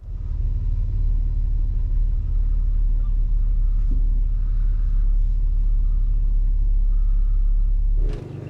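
A car engine idles with a steady deep rumble close by for several seconds, then cuts out near the end, with faint talk.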